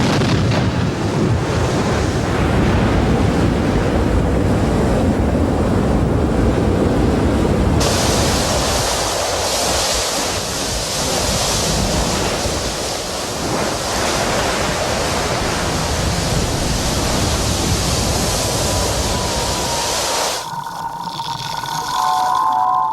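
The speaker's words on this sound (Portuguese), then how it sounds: "a costa se torna um caldeirão fervente quando o fogo e a água se encontram" Molten lava pouring into the ocean along a volcanic coastline, churning and boiling the surf into a loud, continuous roaring hiss that swells partway through and drops away near the end, with no voices.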